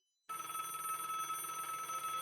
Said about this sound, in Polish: Dobra, jest telefon.